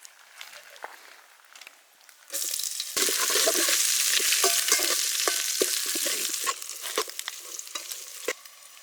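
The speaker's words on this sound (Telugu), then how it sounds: "అయితే ఉల్లిగడ్డలు లైట్గా వేయించుకుందాం." Onions frying lightly in a pan for village-style egg biryani, a loud steady sizzle that jumps up after a quieter start, with scrapes and clatters of stirring throughout and no talk.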